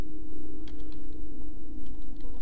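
Keys clatter on a computer keyboard in quick, light taps over a steady low background hum, close and fairly quiet.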